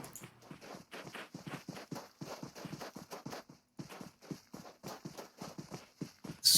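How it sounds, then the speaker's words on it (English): Footsteps in a PUBG Mobile esports match: quick, regular steps thud steadily with short pauses, clear and close, with no talk over them. "You can hear all the footsteps"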